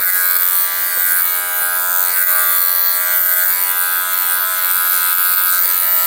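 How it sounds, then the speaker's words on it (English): An electric clipper buzzes steadily while shaving a poodle's face during grooming, a continuous bright motor hum with a dense stack of harmonics, close and constant throughout with no talking. "take a little shortcut and use your clipper to kind of blend through"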